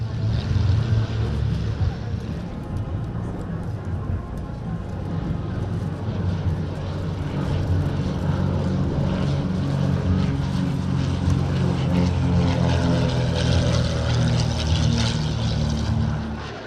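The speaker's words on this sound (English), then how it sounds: "we see them presenting two of their aircraft here, a Beech King Air and a Britten-Norman BN2 Islander" Propeller aircraft, a Beech King Air and a Britten-Norman BN2 Islander, drone loudly at an airshow in Romania, a continuous engine roar that swells slightly toward the end over broad outdoor noise.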